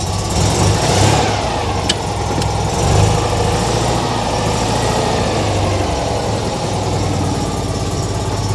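Citroen 2CV engine idling after a choke start, a steady, loud, close mechanical chug with a couple of slight swells and no voices.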